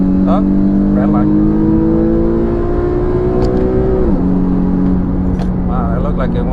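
A 2013 Infiniti G37 sedan fitted with test pipes revs hard in third gear toward 7,500 RPM, its engine note climbing steadily for about four seconds, then dropping sharply as it shifts, loud and continuous throughout.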